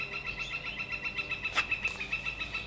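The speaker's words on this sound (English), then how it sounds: "Listen to that bird." A small bird chirps repeatedly in a quick, steady rhythm of bright tweets, fairly close and clear, with a brief louder burst partway through and no voices.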